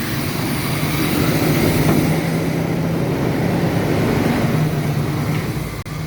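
A G-Body station wagon engine runs with its choke blocked open, a steady close rumbling drone with a low hum that holds for several seconds without talk.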